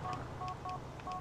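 A repeating phone ringtone in a video game, short bright tonal beeps in a steady pulsing pattern, fairly faint over a low hum.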